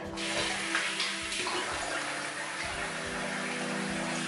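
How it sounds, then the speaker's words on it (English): Tap water runs steadily and fairly loudly for the whole stretch as a face is rinsed after a wet shave at the sink, with no talking. "just rinse that off."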